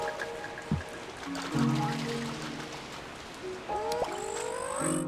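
Rain patters steadily in the video game Pikmin 3, a soft continuous hiss of drops with gentle melodic tones and chimes drifting over it.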